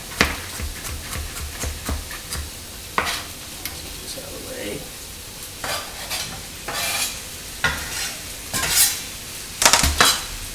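Food stirred in a pan with a utensil, close and fairly loud: irregular scraping and clinking strokes against the metal over a soft sizzle, with brief pauses between bursts.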